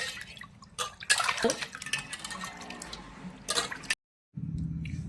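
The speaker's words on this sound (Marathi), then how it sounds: "आता आपल्याला स्वच्छ पाण्याने धुवून घेऊ चांगला." Water splashes and drips as fish is rinsed by hand in clean water, with irregular sloshing bursts and a brief pause near the end, close by.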